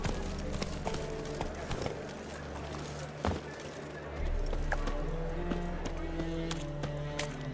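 Horse hoofbeats from the mount in The Witcher 3 video game, a rhythmic clip-clop of galloping over a steady low rumble of game ambience, with a brief thud partway through and a voice heard faintly.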